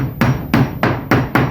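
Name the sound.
hammering wooden boards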